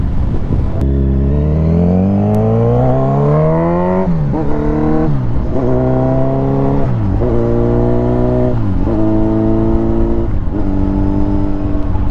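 Motorcycle accelerating hard through the gears, the engine note rising steadily in pitch then dropping at each shift across several quick upshifts, loud and close with constant wind noise.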